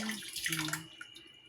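Water runs from a tap into a container, a steady splashing rush that fades to a thinner trickle.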